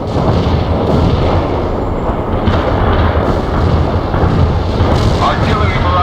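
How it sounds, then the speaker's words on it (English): Continuous rumbling artillery barrage in the real-time strategy game World in Conflict, dense overlapping booms and explosions filling the whole stretch, with game voices mixed in. "Artillery barrage hit for full effect."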